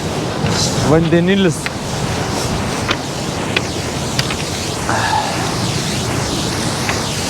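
Steady rushing water with a broad hiss and wind buffeting the microphone; a voice is heard briefly near the start.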